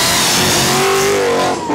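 A loud 1966 Mustang race car engine roars and revs hard at close range, a dense continuous howl that dips briefly near the end.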